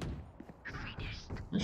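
Gunfire in a ranked Valorant match, a few quick sharp bursts over roughly a second, moderately loud against game ambience.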